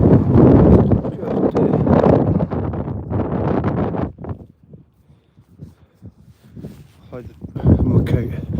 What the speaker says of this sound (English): Sorry if it's windy.